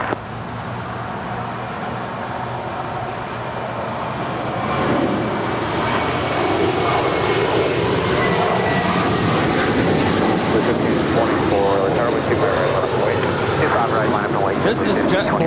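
A United airliner takes off from runway 25 right at LAX, its engines a loud, steady roar that swells partway through and holds, heard from the airport perimeter.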